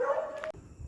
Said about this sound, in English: We have a little puppy barking at us